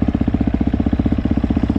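A motorcycle engine idles and runs steadily nearby, its fast regular firing pulses loud and even, with no talk over it.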